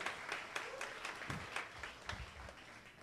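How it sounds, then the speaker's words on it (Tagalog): A church congregation applauds during a worship service, dense clapping spread across the whole stretch at moderate distance, with a faint voice now and then under the applause. "Malakas sa palakpak para sa Diyos."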